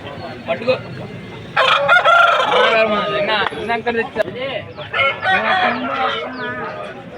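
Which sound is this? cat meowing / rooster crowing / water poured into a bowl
rooster crowing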